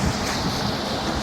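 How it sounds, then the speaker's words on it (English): Strong wind buffets the microphone in New York City just after Hurricane Sandy, a loud, continuous roar of gusts with no voices, filling the whole moment. "Still windy."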